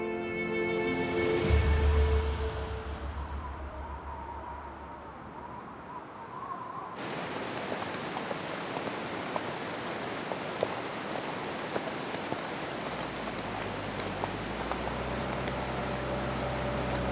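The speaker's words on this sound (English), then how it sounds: "This morning, the constant icy rain gradually turns to snow." Constant icy rain falls steadily at a remote Himalayan village, a dense even hiss that holds throughout, with a brief low rumble near the start and no voices.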